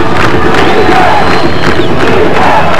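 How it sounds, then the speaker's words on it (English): Crowd at a 1994 high school football game between Hackensack and Paramus Catholic chanting defense, a dense roar of many voices rising and falling in steady rhythmic swells, loud and continuous across the stands. "Listen to the crowd. Chant a defense."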